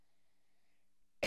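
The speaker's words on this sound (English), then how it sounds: "Sorry, guys, you just have a cough." A single short, sharp cough bursts out near the end after a quiet stretch, close and fairly loud, during a gaming session of The Escapist.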